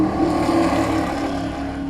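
Eagle race cars with Offenhauser engines on demonstration laps at Road America, a loud, steady high-revving engine drone with a strong buzzing tone, close and continuous.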